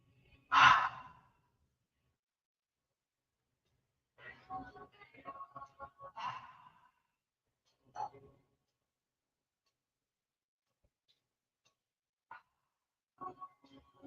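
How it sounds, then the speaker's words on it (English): Slow, deliberate deep breaths, a strong inhale or sigh near the start followed by quieter, spaced breaths in and out, close and soft in a silent room. "This is a deep breath that goes in, deep breath that comes out, deep breath. Slow, deliberate."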